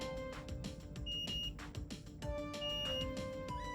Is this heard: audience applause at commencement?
no